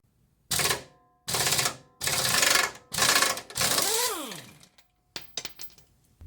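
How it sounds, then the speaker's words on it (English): Impact gun removing the crank pulley bolt on a 1997-or-later Jeep XJ with a 4.0L engine, five loud close rattling bursts separated by short pauses, followed by a few faint trailing clicks. "I'm going to use my impact gun."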